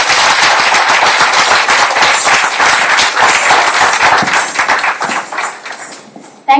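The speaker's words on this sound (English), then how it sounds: "Please give them a big round of applause." An audience at an event by visually challenged dancers claps loudly and steadily for several seconds in dense, continuous applause that thins out slightly before ending.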